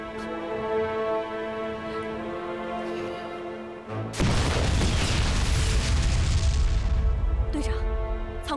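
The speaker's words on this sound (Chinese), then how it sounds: "爆炸了！ 我看那批炸药是保不住了。" Explosives blowing up in a war drama: a heavy, loud blast erupts about midway through, its rumble and crackle filling the rest of the clip after a steady tonal drone.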